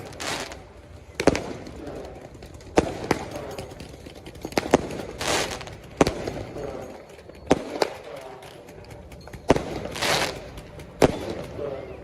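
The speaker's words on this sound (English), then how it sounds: "fireworks are being launched repeatedly at federal agents" Fireworks launched repeatedly at federal agents during an outdoor protest, heard as sharp pops and bangs at irregular intervals, some close and loud, others more distant, with crowd noise low underneath.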